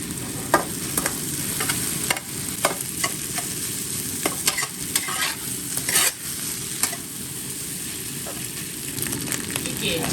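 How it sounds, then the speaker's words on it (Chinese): Rice stir-fried with sour chili peppers in a wok sizzles loudly and steadily, with sharp clacks of the spatula scraping and tossing in an irregular rhythm, up close. "先给它炒香，再下入饭"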